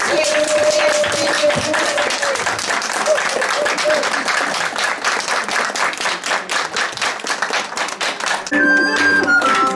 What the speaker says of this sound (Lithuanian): prašom balsuoti plojimais už pirmąjį